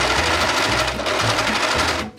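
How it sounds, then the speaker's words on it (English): A serger finishes the inside edge of a fabric ruffle for a doll dress, giving a steady, fast mechanical whir up close for about two seconds before stopping abruptly. "The inside edge of the ruffle is cleaned up with the serger."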